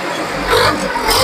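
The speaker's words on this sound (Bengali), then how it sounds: "এই যে দেখুন ইঞ্জিনের আওয়াজ" A well-used vehicle engine with 3,800 running hours idles close by in a steady, rough mid-range drone with a slight rise in the middle.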